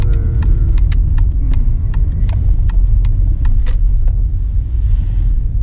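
Car pulling into a roadside lay-by: a loud continuous low rumble of engine and tyres, with a regular series of light ticking clicks over it and no voices.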